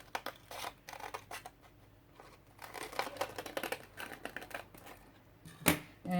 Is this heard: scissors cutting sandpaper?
yes